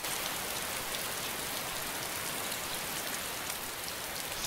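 Dense, steady rainfall in a video game, an even wash of hiss with no pauses, close and continuous throughout.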